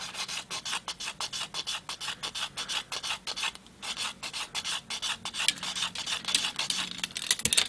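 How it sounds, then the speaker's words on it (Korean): A nano fishing float body is sanded with a stick of sandpaper, giving rapid, steady back-and-forth rasping strokes, close and continuous for the whole stretch. "사포질은 이런 스틱 사포로 해주는 게 좋습니다"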